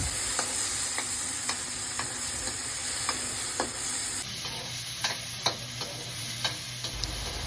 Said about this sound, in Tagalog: Haluin lang natin at hintayin nating maluto ang mga sangkap.